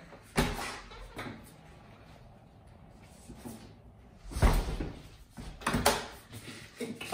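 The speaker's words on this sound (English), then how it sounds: "So now I'm gonna trap it in the door." A door closes on a resistance band to trap it as an anchor, giving a few soft knocks and thuds with scraping and handling noise, close by in a quiet room.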